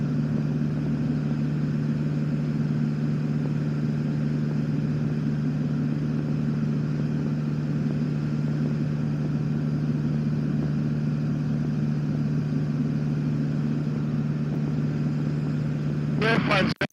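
A light airplane engine cruising at 4,000 feet on 65% power: a steady, loud cabin drone with a deep, even hum that holds unbroken throughout, ending with a brief rattling burst.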